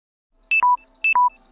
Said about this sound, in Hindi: ये फिर से फ़ोन की बैटरी ख़त्म हो गई